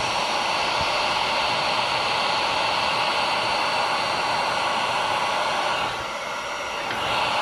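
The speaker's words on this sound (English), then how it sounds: "Then we go get our heat gun." A heat gun blows hot air in a steady, loud, close rushing whoosh, dipping briefly near the end before returning, while work goes on around an E36 with a caged 1JZ swap.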